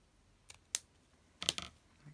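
Scissors snip craft material at an angle, producing a few crisp close clicks spaced unevenly, quiet against a near-silent room.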